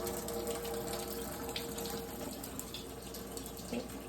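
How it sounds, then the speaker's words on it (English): Water runs steadily from a tap to fill a countertop dishwasher, a constant close splashing hiss with no talking. "So now we're going to turn on our water so that it can fill up."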